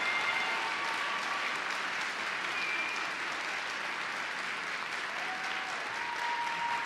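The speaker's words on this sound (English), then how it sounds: "Another round of applause for the Middle School Honor Orchestra." An audience at a middle school honors concert applauds its honor orchestra, a broad, even wash of many hands clapping that holds steady for several seconds, slightly distant in a large hall.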